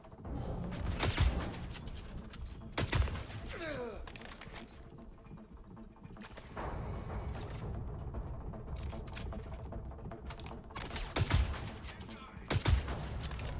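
Shotgun blasts in a first-person space combat game fire as sharp, loud bursts spaced irregularly among rapid clattering gunfire and other game noise.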